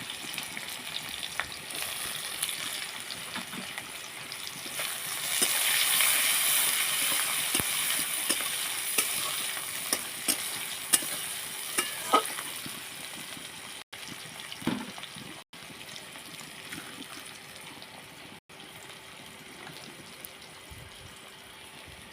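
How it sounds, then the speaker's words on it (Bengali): Chopped onions fry in hot oil in a pan, a continuous hissing sizzle that swells early and then settles, with scattered spatula scrapes and clicks, close by and without talk. "পেঁয়াজটা আমার লাল লাল করে ভাজা হয়ে গেছে"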